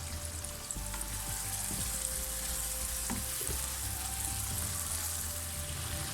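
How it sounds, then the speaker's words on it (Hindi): Beef and yogurt frying on a high flame, a steady close sizzle with a few stirring knocks and scrapes against the pot, no voices. "इसके अंदर ये 1 कप के करीब दही जो था वो भी ऐड कर दूँगी और हाई फ्लेम के ऊपर हम इनको अच्छी तरह से भून लेंगे"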